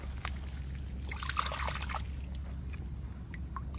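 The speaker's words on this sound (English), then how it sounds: "Let's go rinse this thing off and take a closer look." Water trickles and splashes over a fossil Porbeagle shark tooth as it is rinsed, a steady light running flow with a few brighter splashes partway through, close by.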